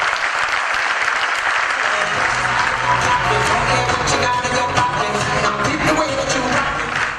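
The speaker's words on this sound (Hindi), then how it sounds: "मिस्टर आलोक मुदगल जी, एक बार जोरदार तालियां।" Loud, sustained applause from a large audience at a business gathering, honoring a business mentor, dense and continuous throughout with faint voices mixed in.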